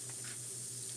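Crackling bread frying in a pan on a stovetop eye, a steady soft sizzle and hiss running throughout, close and quiet with no talking.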